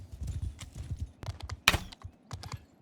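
Horse hooves galloping in the video game Bannerlord, a fast irregular clatter of hoofbeats throughout with a sharp hit sound midway, no talking.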